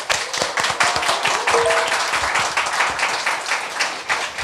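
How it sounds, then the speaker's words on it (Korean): A studio audience claps steadily to open a Korean current-affairs talk show, a dense, even wash of many hands that holds at full loudness throughout without any talking. "여러분의 힘찬 박수와 함께 시작하겠습니다."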